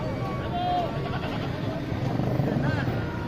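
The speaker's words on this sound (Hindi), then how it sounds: "यहाँ एक बकरा है, वो आपको दिखाता हूँ।" Goats bleating at a bakra mandi livestock market, a few brief wavering calls rising out of a busy crowd with people talking and passing motorbike noise throughout.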